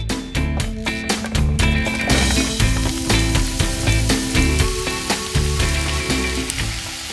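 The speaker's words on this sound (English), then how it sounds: "when it's hot, I add in enough olive oil to coat the bottom." Hot olive oil sizzles steadily across the bottom of a large frying pan on a medium-high stove, a loud, continuous crackling hiss with a few brief clatters at the start and no speech.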